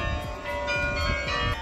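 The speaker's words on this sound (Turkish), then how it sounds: "Kilisenin çanı da çalıyor." A church bell rings in the old town of Delft, its resonant strikes repeating at a steady pace and ringing on over faint street ambience, moderately distant, with no talking.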